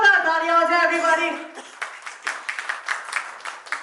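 Clapping from an audience at a talk show launch event breaks out after a voice fades, a scattered patter of claps continuing for a couple of seconds.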